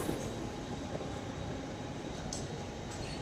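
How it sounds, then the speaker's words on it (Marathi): Inside a first-class coach of a Mumbai local train running between Govandi and Belapur, a steady, close rumble of wheels and carriage noise continues throughout, with faint higher squeaks. "तर आता आपण ट्रेनमध्ये बसूया."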